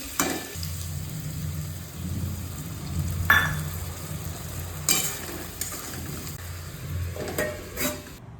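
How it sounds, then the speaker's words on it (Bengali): Stir-frying in a pan after tempering black cumin with green chili, salt, turmeric and a little sugar: soft sizzling under scattered sharp scrapes and clinks of a spatula, close and moderately loud, no talk. "নুন হলুদ আর একটু মিষ্টি দিয়ে এটা একটু ভাজা ভাজা করে নিচ্ছি আরে কষে নিচ্ছি"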